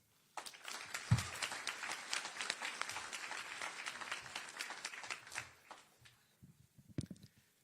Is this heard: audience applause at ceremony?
yes